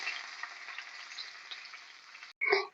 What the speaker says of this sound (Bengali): এইভাবেই প্রত্যেক কটা মাছ আমি ভেজে নেব।